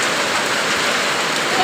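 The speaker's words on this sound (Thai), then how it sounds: "ฝนตกเดือน11" Steady rain pours down on a rural Thai–Lao farmland setting, a dense, even hiss of drops on surfaces that fills the whole moment without pause.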